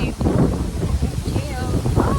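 Gusty wind buffets the microphone with a low roaring rumble, steady and close, while people talk faintly beneath it.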